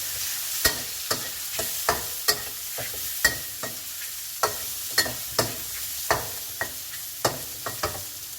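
Mixed vegetables with fish balls and glass noodles being stir-fried, a steady sizzle under repeated sharp scrapes and clanks of a spatula in the pan at irregular intervals of about half a second, close and clear.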